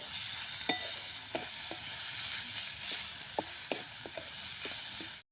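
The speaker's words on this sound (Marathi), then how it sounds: "मिरची चांगली परतून घ्यायची आहे" Green chillies and garlic sauté in a pan for a tandulja (amaranth greens) bhaji. A quiet, even sizzle is punctuated by regular sharp spatula scrapes every half second or so, with no talking.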